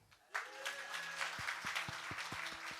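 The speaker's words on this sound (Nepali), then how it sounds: "प्रभु को ताली बजाओ" Audience applause in a church gathering, a burst of many hands clapping that swells suddenly and carries on steadily, with a few louder individual claps standing out near the end.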